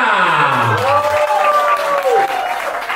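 An audience applauds at a live music performance, loud steady clapping mixed with a voice or instrument sounding over it.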